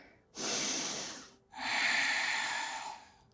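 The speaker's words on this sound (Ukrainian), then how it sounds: "Заключний глибокий вдих, ще трошки нижче і глибше з видихом" Two long, loud, close breaths during a yoga session, a deep airy intake followed after a short pause by a longer sustained breath, with no speech over them.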